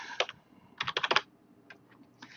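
Fingers tap on a computer keyboard, a single clack followed by a quick cluster of keystrokes and a few scattered, softer taps, quiet and close, with no talking.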